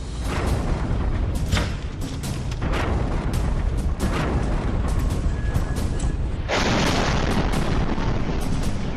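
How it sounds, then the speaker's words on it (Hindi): A continuous barrage of deep, rumbling booms and crackling blasts from repeated explosions in the Russia-Ukraine war, loud and dense throughout, with a sharper burst near the end. "लगातार धमाके हो रहे हैं सुबह से"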